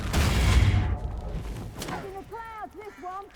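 A Confringo fire-blast spell in Hogwarts Legacy, one loud booming burst that fades out, followed by short tonal magical chimes and whooshes.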